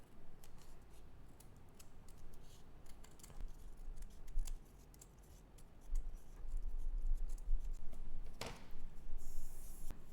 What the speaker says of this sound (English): I pasted random scraps here, and then I can just trim the excess off